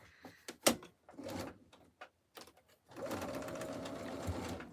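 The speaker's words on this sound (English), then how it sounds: "we are sewing double-sided Christmas placemats with Robert Kaufman fabric" Sewing machine stitching double-sided Christmas placemats of Robert Kaufman fabric, short bursts with pauses and a few handling clicks, then a steadier run at the end, fairly quiet.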